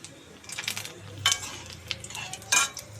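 Sun-dried lentil vadiyalu fry in a little oil, a soft sizzle broken by scraping stirs and a few sharp clinks of a spoon against the pan.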